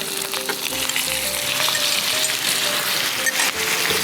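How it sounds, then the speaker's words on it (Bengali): Pieces of chicken sizzle and crackle in hot cooking oil along with fried onions in a pan, a steady close frying hiss with occasional stirring scrapes and no talking. "চিকেনটা দিয়ে দিচ্ছি"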